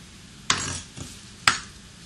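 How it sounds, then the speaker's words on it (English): A knife chops fresh basil on a cutting board, giving two crisp, close knocks a second apart with a softer tap between them in a quiet kitchen. "Now I'm going to mince this basil."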